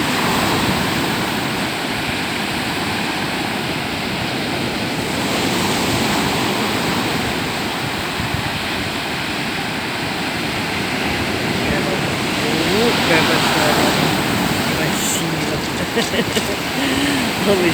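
Sea waves surge against a mountain river's outflow where it meets the sea, a loud, steady broadband roar of rushing water and surf that swells slightly toward the end.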